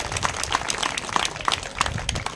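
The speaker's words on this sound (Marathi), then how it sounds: "जोरदार टाळ्या झाल्या पाहिजे" An audience at a school poetry festival applauds with a brisk, moderately loud round of clapping that holds steady throughout.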